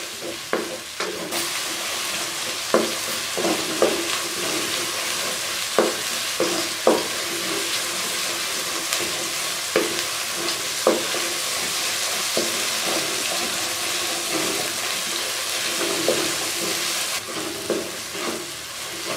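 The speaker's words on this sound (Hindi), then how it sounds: "प्याज की भुनाई हो गई है अच्छे तरीके से।" Onions frying in a pan for chicken malai handi, a steady close sizzle carrying on throughout with regular scraping stirs of a spoon recurring every second or so.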